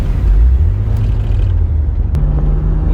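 A BMW 330Ci convertible drives along with a loud, steady low engine and exhaust rumble, heard close up from the car with a slight shift in tone partway through and no one talking.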